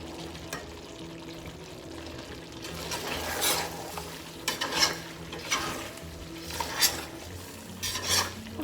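Fried vegetables being stirred into chicken jalfrezi in a pan, a low simmering sizzle under scraping spoon strokes and occasional clinks against the pan, close and fairly quiet, no talk.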